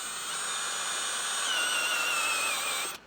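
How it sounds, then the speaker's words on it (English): A step drill bit cutting a hole into a 2022 Ford F-250 Tremor for a running board install, a steady high whining drill tone with shifting pitch that stops abruptly. "I'm going to be using a step bit"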